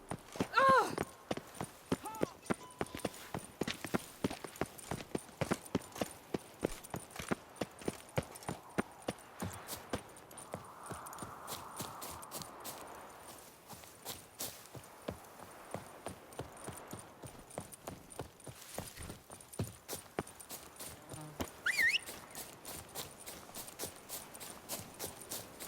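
Horse hooves clip-clopping in a steady rhythm as the horse is ridden in The Witcher 3 video game, fairly quiet, with brief game sounds and a short spoken line.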